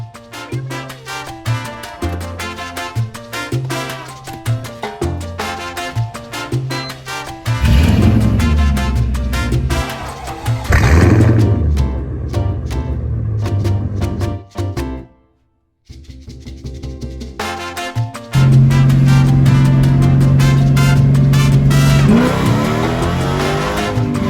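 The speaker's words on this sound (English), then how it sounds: "Now time to fire up the car and go see what to do." A Mercedes CLK55 AMG fires up and drives off, the engine revving hard in repeated loud pulls with gear changes, a brief cutoff and pause, then a strong steady drone as it accelerates again.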